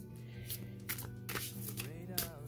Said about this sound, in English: let me get these C cards shuffled here